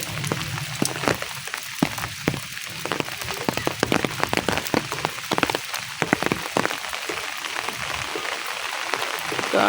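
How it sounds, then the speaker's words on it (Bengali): Heavy rain during a flash flood from hill runoff, with constant dense patter and splashing and a steady rush of water that has broken roads and is entering a village home, loud and close with no talk. "যে শব্দ হইতেছে, পানির ভু ভু শব্দ হইতেছে।"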